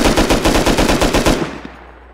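A mounted turret machine gun fires in a video game match, a loud rapid burst of about a dozen shots that stops abruptly and fades out.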